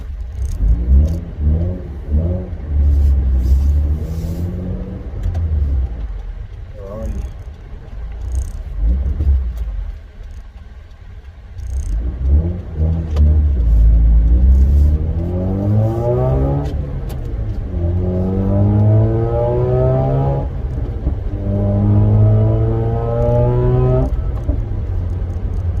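A Mazda RX-8 rotary engine revs repeatedly, its pitch climbing and falling in rising sweeps with a low rumble and pops between pushes; someone briefly speaks once.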